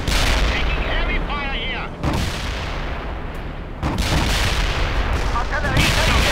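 Battle in the World in Conflict video game: continuous loud gunfire and artillery blasts with heavy booming impacts, dense and unrelenting throughout, with faint radio-style voices mixed underneath.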